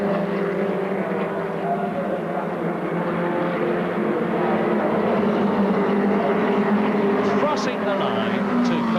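A 1984 Formula Ford racing car crossing the line at Brands Hatch, its engine a loud, steady drone throughout, heard under continuous commentary.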